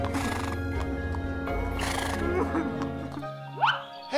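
A horse whinnies near the end in a rising, loud neigh over busy cartoon background music and sound effects, with faint voices throughout.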